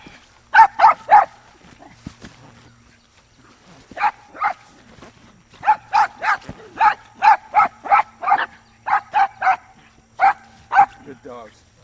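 Guard dogs bark in a bite demonstration, quick bursts of loud, close barks in clusters with short pauses, and people talk in the background.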